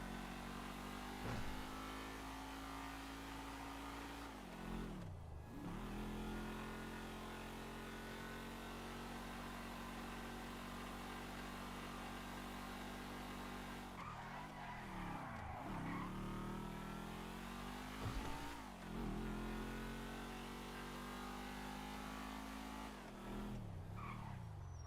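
A car engine revs and drones continuously, its pitch climbing and dropping sharply several times as the vehicle accelerates and shifts.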